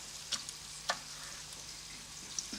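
Wild boar meat frying in a pan, a faint, quiet sizzle with a few sharp ticks and crackles scattered through, heard close with no voices.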